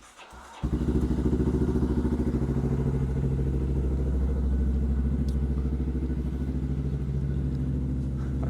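A Honda Grom motorcycle, slow to start, catches after a brief low stutter near the start, then settles into a loud, steady, throbbing idle close by with a faint clatter on top for the rest of the clip.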